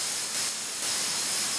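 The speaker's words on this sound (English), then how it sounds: "It's the white noise from Ableton, again. It's very handy to make your own hi-hat" White noise generated in Ableton and shaped as a hi-hat: a steady, bright hiss that fills the clip with only slight dips in level, heard alone with no voices.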